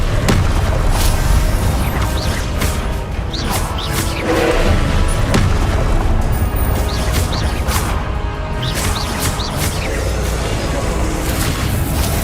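Spell blasts and explosions crash repeatedly in Hogwarts Legacy combat, loud booms and bursts in quick succession over a busy battle backdrop, with a voice shouting spell incantations throughout.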